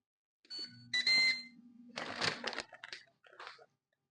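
An air fryer, set to 390 for 11 minutes, gives a few short electronic beeps as it is programmed, followed by crinkly handling and clattering noises at close range.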